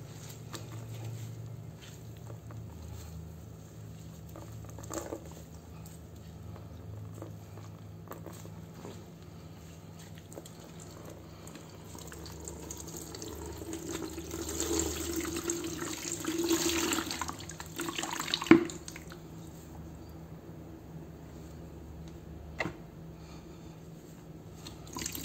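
Water being wrung from a twisted loop microfiber car drying towel, a soft steady trickle and patter that swells in the middle and is heard close with no talking.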